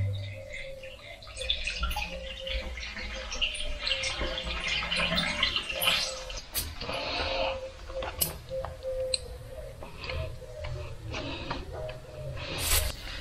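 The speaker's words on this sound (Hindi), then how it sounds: "अब मैं इस पाइप में पूरा पानी भर लेता हूं" Water is poured into the pipe of a Cheston 1800-watt high-pressure washer, a faint, uneven trickling and splashing with scattered drips and small knocks throughout.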